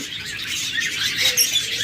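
Pet birds kept for sale, including cockatiels, budgerigars, lovebirds and diamond doves, fill the air with a dense, continuous chorus of high chirps and tweets, close and steady, with no talk.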